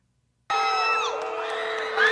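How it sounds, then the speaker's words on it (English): At a concert, an audience member lets out a piercing, sustained scream at maximum volume, close and loud. It breaks in suddenly after silence and stays shrill throughout. "Ear piercing, screeching, max volume, like there's no one around her."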